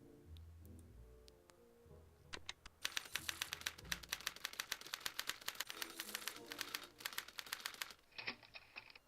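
A typewriter in a Back to the Future video game clacks in a fast, even run of sharp keystrokes, with softer ticking and low background game sounds around it.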